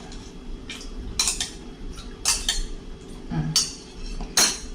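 A spoon mixes chicken wing marinade in a bowl, giving a series of sharp clinks and scrapes against the bowl at uneven intervals, close and clear, with no speech.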